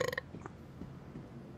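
One short, low burp sounds in a Star Citizen game session, close and fairly quiet, followed by faint low rumbling background.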